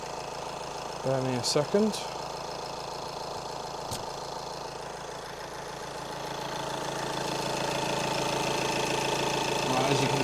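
A crash-damaged Audi A6 C7 engine idles just after starting, a steady close mechanical hum that grows slightly louder toward the end, with someone speaking briefly near the start.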